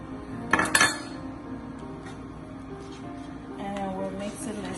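Sauce is mixed with spaghetti and Cajun suya salmon in a pan. Two quick metallic clinks of a utensil against the cookware come first, followed by quieter scraping and stirring with faint background voices.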